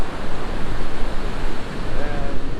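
Ocean surf at a beach getaway, a loud continuous roar of waves and wind, steady and close, with no clear speech over it.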